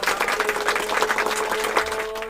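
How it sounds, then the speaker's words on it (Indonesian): A group claps at a children's church service, a dense, lively burst of applause that carries steadily for a couple of seconds before tailing off. "Kasih tepuk tangan"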